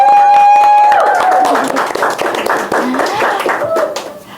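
An audience claps hands at the close of a campus talk on village women's empowerment: loud, dense, uneven applause starting after a steady tone, with a voice speaking over part of it.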